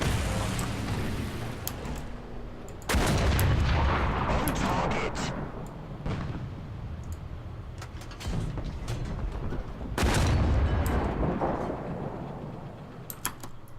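An 88 mm gun in the War Thunder tank game fires two heavy booming shots several seconds apart, each a loud broadband blast that rumbles and decays, with a voice talking between them.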